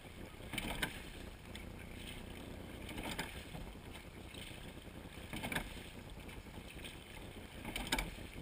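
A seine rowing boat gliding through flat water off Gloucester, Massachusetts, with soft rhythmic strokes recurring every couple of seconds over a faint, steady wash of water and wind.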